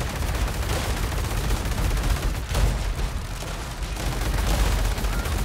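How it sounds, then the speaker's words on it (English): Shotgun fire in the War Robots: Frontiers video game, a dense, continuous barrage of booming blasts and impacts that stays loud and unbroken throughout. "look at these shotguns when they hit, how much damage they do."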